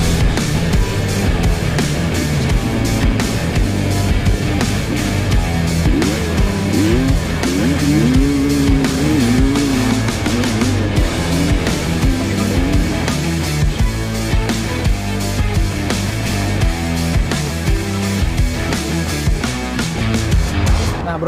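A Kawasaki KLX 140 dirt bike engine drones loudly and continuously while riding off-road, revving and shifting pitch throughout, with dense mechanical noise and no clear talking.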